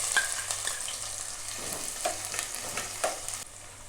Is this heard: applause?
no